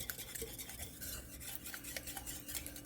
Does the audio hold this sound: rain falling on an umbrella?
no